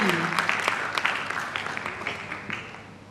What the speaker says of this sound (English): please give them a louder applause